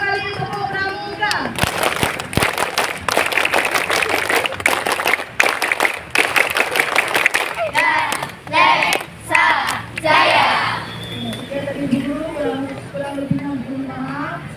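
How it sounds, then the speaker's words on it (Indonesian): Scouts at a Scout Day ceremony perform the rhythmic scout clap twice, a loud crowd of clapping hands mixed with shouting voices and chatter. "Dua kali tepuk pramuka."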